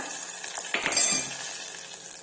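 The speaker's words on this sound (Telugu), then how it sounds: "తాలింపు అయితే వేగిపోయిందండి మంచిగా" Tempering spices sizzle and crackle in hot oil for bottle gourd dal, a continuous close hiss with a brief clink of a utensil partway through.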